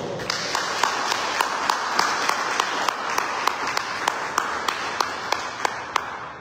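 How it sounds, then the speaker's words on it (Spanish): An audience applauds Dr. Irene Farfán, a steady wash of clapping with a few sharper individual claps standing out at regular intervals, holding even throughout. "pido un fuerte aplauso, por favor"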